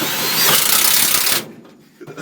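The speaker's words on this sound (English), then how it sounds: "He's got his power screwdriver." A power screwdriver drives a screw into metal during an installation job: a steady, loud motor whir for about a second and a half that then cuts off abruptly, leaving quiet background with a faint knock near the end.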